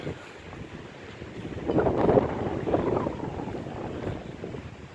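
Wind blowing outdoors at night in a cemetery at 2 AM, rumbling across the microphone in a steady roar that swells into a stronger gust midway before easing slightly.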